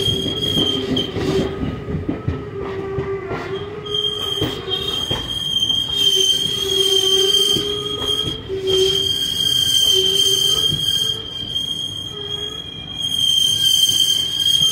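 Train running along the track near Vijayawada, heard from on board as a continuous rumble with rhythmic wheel clatter and sustained high metallic wheel squeals that rise and fade, close and without talk.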